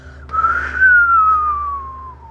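A single long human whistle glides smoothly downward in pitch, clear and close, imitating a blackbird's call over a quiet background.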